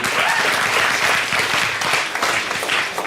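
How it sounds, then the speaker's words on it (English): A podcast audience breaks into steady, dense applause for a guest, a sustained wash of many hands clapping close and loud throughout, with no voices standing out. "give the guy a round of applause"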